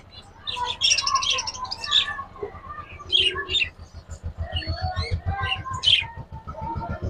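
Caged pet birds, a myna and a starling, call in a lively stream of chirps and whistles, close and fairly loud, over a steady low mechanical hum.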